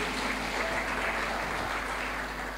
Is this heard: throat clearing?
no